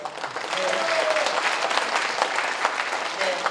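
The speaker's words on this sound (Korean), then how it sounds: "아마 이 박수는 앞으로도 더 많은 것을 발견하고 더 많은 것을 또 시대나가는 그런 격려, 응원의 박수가 아니었을까" Audience applause at a county council member's talk event, steady dense clapping throughout, moderately loud, with faint voices underneath.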